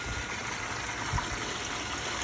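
A water pump runs outdoors feeding a gold-prospecting trommel, giving a steady, dense rush of flowing water with a low mechanical undertone, close and continuous, no voices.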